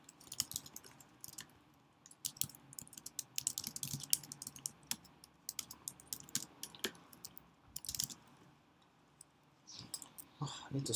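Rapid keyboard typing during a one-hour game-making livestream, a dense run of close, sharp key clicks with bursts and brief pauses throughout.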